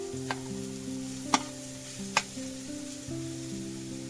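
Chopped capsicum, beetroot, tomato and carrot frying in a pan for corn rolls, a steady soft sizzle under a low background hum, with a few sharp spoon taps against the pan.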